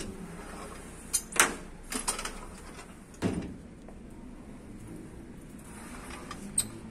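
A sliding mosquito screen door being moved along its track, a few scraping and rattling bursts with a sharper knock, fairly close, separated by quiet stretches with no talk.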